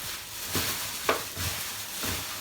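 Curry powder being stirred into Jamaican curry goat in a hot pan: several scraping stir strokes, about one every half second, over a soft steady sizzle, close and fairly loud.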